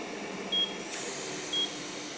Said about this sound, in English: if there's a restriction, the alarm will come on